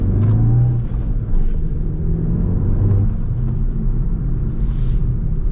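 A 2025 VW GLI with a manual gearbox pulls hard under turbo boost while driving, its engine a steady loud rumble with rising revs throughout, heard from inside the cabin with no talking.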